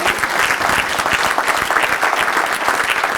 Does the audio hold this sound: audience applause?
yes